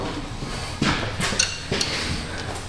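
Metal tools clink and knock a few times while the bolts of a rotted Subaru subframe are cranked down, with brief sharp taps scattered over a low background noise.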